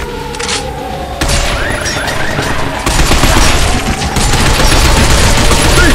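Rapid bursts of automatic gunfire in the Binary Domain video game, loud and dense throughout, building into continuous fusillades with booming impacts.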